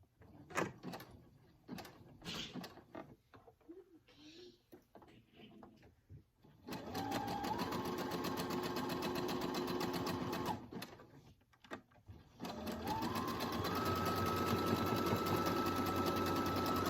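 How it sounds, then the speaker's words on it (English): A sewing machine runs a zigzag stitch to join elastic on a twin flat sheet, two loud sustained bursts of rapid mechanical whirring after some handling clicks and rustles. "I put my machine on a zigzag stitch."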